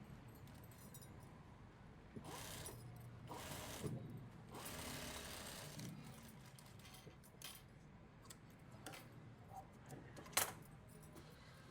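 A sewing machine stitches folded canvas along a blouse neckline, faint and fairly distant, running in short bursts with small metallic clicks between.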